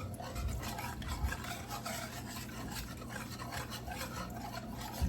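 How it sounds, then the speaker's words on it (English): A whisk stirs broth into a sauce in a pan, making steady scraping and swishing strokes that repeat through the whole stretch. The sound is close and moderately quiet, with no talking. "just keep whisking it, adding the broth"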